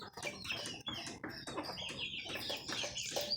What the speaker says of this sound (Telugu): మా కోళ్ళు ఇవన్నీ చూడండి ఇట్లా సతాయిస్తుంటాయి.